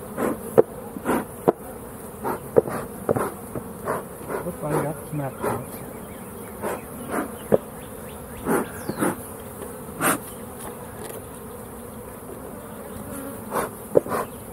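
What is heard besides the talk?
honey bees buzzing around a hive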